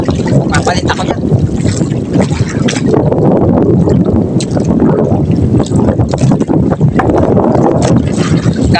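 A small motorboat engine runs at low throttle over choppy, windy water, buried under loud wind buffeting the microphone and sloshing waves, with a voice speaking over it.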